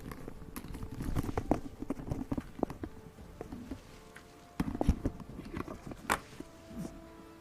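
Horse hooves clip-clop on a path in the fantasy role-playing game Pathfinder: Wrath of the Righteous, a light, irregular patter of steps at moderate distance with scattered small clicks and a faint background hum.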